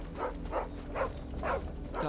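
A dog in Final Fantasy XVI gives a series of about five soft, evenly spaced barks or woofs, faint and moderately close, with no talking.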